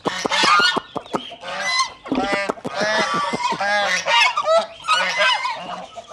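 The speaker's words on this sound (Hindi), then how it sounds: "हम डक्स को पहले इसलिए डालते हैं कि यार ये अपना शोर कम कर दें" A flock of ducks, waiting to be fed, quack loudly and continuously close by in overlapping honking bursts.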